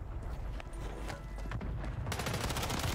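Rapid game gunfire crackles in dense bursts through a shooter match, loud and close, growing sharper and busier toward the end with no talk over it.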